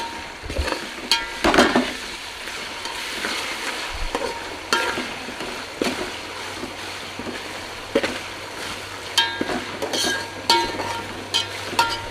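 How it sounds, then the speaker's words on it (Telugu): Ginger garlic paste frying with onions in a pan for egg dum biryani, a low continuous sizzle broken by repeated clattering stirs and scrapes of a spoon, close and fairly steady. "అల్లం వెల్లిగడ్డ పేస్ట్ వేసుకున్నాం కదా, అదైతే పచ్చివాసన వేయంతో ఫ్రై చేసుకున్నాం"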